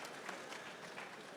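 Brief, quiet applause from a conference session audience, a steady patter of claps without distinct voices, fairly distant and soft.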